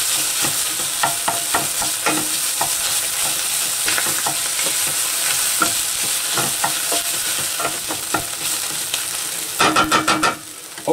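Tomato paste is stirred and fried in a pan with carrots and ham for a pasta sauce, giving a steady loud sizzle with repeated scraping strokes of the spoon throughout.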